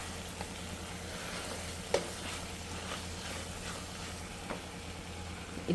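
Ginger garlic paste fries in oil for a chicken curry, an even, continuous sizzle at moderate level, broken by a few soft clinks of a spoon against the pan.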